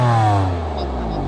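A 2015 BMW M3 or M4's 425-horsepower engine revs up, its deep roar rising and holding loud and close, with a voice partly audible over it.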